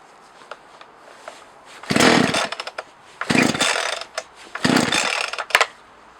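A Partner chainsaw engine fires in repeated short bursts after choking, each revving loudly for about a second before dropping back, with small pops and rattles between pulls.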